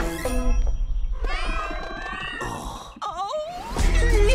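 A cat meows once in an animated film trailer, rising and bending in pitch, set among swelling music and other effects that crowd the short mix.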